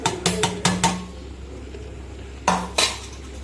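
Fried rice with capsicum, carrot, cashews and raisins is stirred in a pan, giving sharp metallic clanks of a spatula against the pan in a quick cluster, a quiet pause, then two more knocks.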